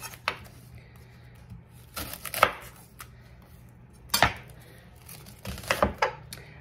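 A knife dices half a yellow onion on a cutting board in short bursts of rapid close chopping taps separated by quiet pauses.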